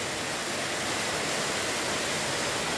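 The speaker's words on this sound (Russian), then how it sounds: "Водопад Снегурочка." Snegurochka waterfall in winter pours in a continuous, dense broadband rush, steady and close with no pauses, filling the whole stretch without any voices.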